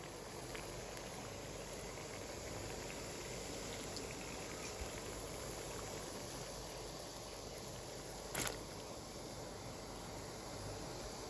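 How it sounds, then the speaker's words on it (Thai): Steady rolling bubbling of water boiling in a pot, a constant dense hiss with one brief clink near the end. "น้ำเดือดแล้ว"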